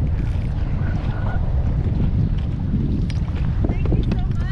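Strong wind blasts across open sea water near a stand-up paddle board, a loud continuous roar buffeting the microphone with splashing beneath, and people talk faintly under the gusts.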